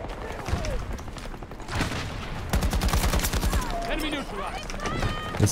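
Gunfire in the video game Battlefield 2042 crackles in scattered shots before a loud, rapid stream of automatic fire, with other battle noise mixed in.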